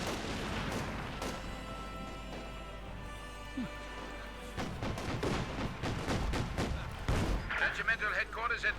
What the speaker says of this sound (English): Oh, dual barrage here.